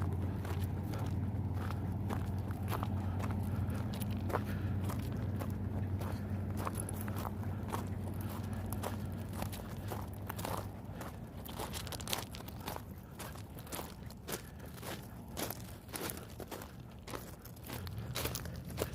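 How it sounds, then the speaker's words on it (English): Feet crunch on rocks beside a railroad track in the Nevada desert. Steady footsteps grind and crackle in a regular walking rhythm, close and quiet, over a low steady background hum. "feet crunching on the rocks here."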